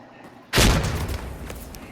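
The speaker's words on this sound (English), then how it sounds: "grenades take a while to go off" A grenade detonates in the video game Insurgency: Sandstorm: one sudden loud boom about half a second in, followed by a decaying rumble of debris and reverb.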